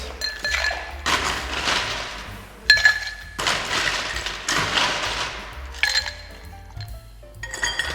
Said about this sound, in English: to this, we're going to add some ice